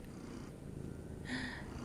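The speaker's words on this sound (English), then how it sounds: "Wanna do a little purr?" A cat purrs close by, a soft low rumble running steadily underneath, faint overall with a brief brighter noise near the end.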